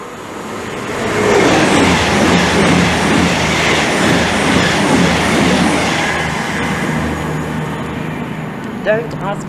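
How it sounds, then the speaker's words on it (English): Train passing through Milton Keynes Central on the West Coast Main Line, a loud, sustained rumble with rapid wheel clatter that swells and slowly fades, ending with faint wheel squeals. "train service from Shrewsbury to London Euston"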